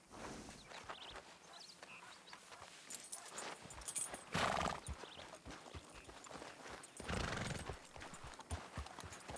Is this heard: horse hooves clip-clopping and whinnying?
yes